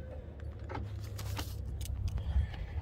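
Keys jangling close by, a sustained metallic rattle over a low engine-like rumble, with no talk.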